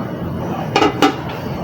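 Knife cutting boiled beef into small pieces on a board, two quick firm chops about a quarter second apart, sitting over a quiet kitchen background.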